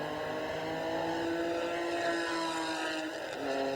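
A race car in the 1989 Firestone Firehawk series at Mosport drives past, a sustained engine drone with shifting pitch that swells and fades slightly as it goes by.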